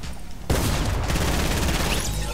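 A sudden burst of rapid, continuous gunfire breaks out in a video game and roars on without pause, loud and dense, with no talking over it.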